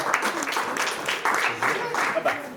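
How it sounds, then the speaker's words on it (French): Audience at a French improv theatre show clapping, a short burst of applause mixed with voices and chatter over it. "On peut applaudir Romain, s'il vous plaît."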